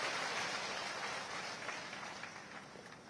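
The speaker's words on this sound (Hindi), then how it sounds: "हमारी राष्ट्रपति महोदया श्रीमती द्रौपदी मुर्मू जी का एक बार जोरदार तालियों के साथ अभिनंदन करें" A large crowd at a public event in Mangarh claps in welcome for the President, a broad, dense roar of applause that is loudest at first and slowly fades over a few seconds.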